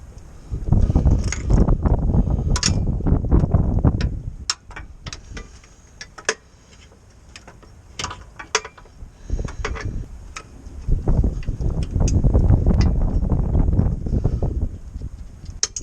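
Transfer box mount on a Mitsubishi L200 pickup being tightened with a hand tool, producing rapid ratcheting clicks and metallic ticks in bursts, with scraping effort noise between quieter pauses.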